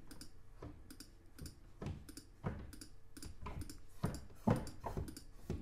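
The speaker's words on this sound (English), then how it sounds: "you can actually press on each of these, which gives you the sound of actually the stop going in and out" A series of sharp mechanical clicks and knocks, roughly one per second, close and fairly loud, as harmonium stops are pushed in and pulled out.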